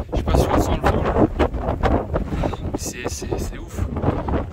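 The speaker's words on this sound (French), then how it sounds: "Je sais pas si on sent le vent là." Gusty mountain wind near Lac du Mont Charvin buffets the microphone in loud, uneven bursts and rumbles, with no calm gap throughout.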